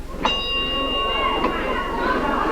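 Ring bell clangs once to start a 1970s Memphis tag-team wrestling match, a bright ringing tone with a second strike about a second later, ringing over loud, steady arena crowd noise.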